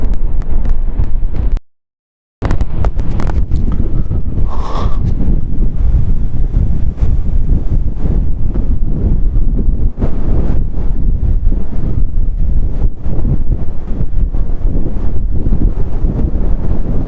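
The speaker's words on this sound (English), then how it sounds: "As you can see, the wind's really" Strong wind buffets the microphone on the beach at Vignola a Mare, Sardinia, a loud, continuous roar with distant surf beneath, briefly cutting to silence near the start before resuming unbroken.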